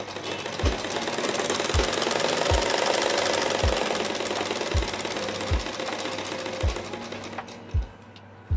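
A sewing machine stitching sleeve lining fabric: a steady rapid whirring hum runs throughout, with regular low thumps punctuating it about once every second, close and continuous, with no voices.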